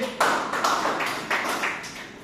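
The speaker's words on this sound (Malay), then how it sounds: "Berikan tepukan." Scattered audience applause in a classroom or lecture setting: a handful of claps at irregular intervals, moderately close and fairly quiet, with no talk over them.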